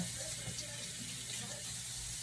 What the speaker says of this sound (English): I do keep my water running so that I can go back and forth washing my hands and utensils